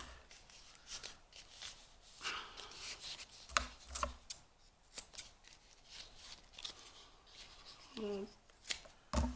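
Scissors snipping through a folded piece of pipe cleaner during a craft project, a few short crisp cuts with rustling handling sounds in a quiet room.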